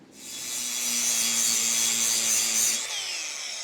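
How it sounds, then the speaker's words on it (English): Angle grinder cleaning up a notched steel pipe for a fence brace, a steady loud high whine with a low hum, running continuously for nearly three seconds before spinning down. "I just got to clean this up with a grinder and just kind of get the final shape to it"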